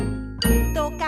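Short chiming jingle of the original Toca Boca game intro, a bright bell-like ding followed by a couple of quick sparkly tones, close and clean, lasting about a second.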